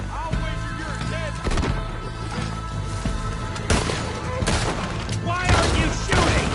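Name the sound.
gunfire in a shootout, from video game Red Dead Redemption 2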